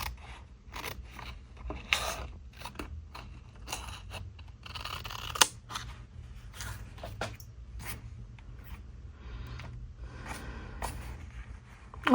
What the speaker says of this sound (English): Sometimes the act of just cutting is so soothing.